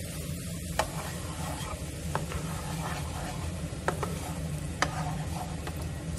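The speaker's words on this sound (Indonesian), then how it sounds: "Dia cepat mendidih ni" Continuous bubbling and sizzling from a cream sauce boiling in a pan on the heat, with occasional soft clicks and scrapes.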